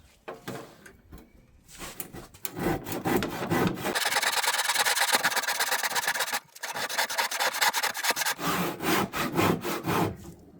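A hand saw cuts through the wood of a door in quick rasping strokes, close and steady, the rhythm thickening into a continuous grind in the middle before breaking back into separate strokes.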